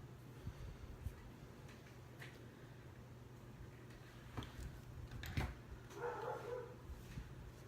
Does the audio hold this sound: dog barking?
yes